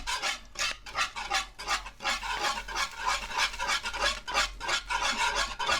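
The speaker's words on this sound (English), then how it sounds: "of vanilla extract. Start stirring that in." A spoon scrapes and rubs around a pot as vanilla extract is stirred into a banana pudding mixture on the stove, a close, rhythmic series of gritty strokes repeating steadily throughout.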